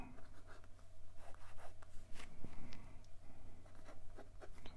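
A Pilot Varsity disposable fountain pen converted to an eyedropper filler, with a medium steel nib, is written across paper, giving a soft, close, continuous scratchy rustle with small strokes and lifts, steady and fairly quiet with no talking.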